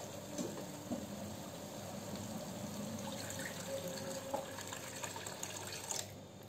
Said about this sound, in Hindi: अब इसमें डालेंगे हम पानी